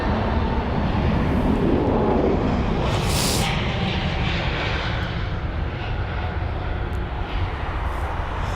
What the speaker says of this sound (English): This here is going to be the Austrian 320 Neo, I think heading to Vienna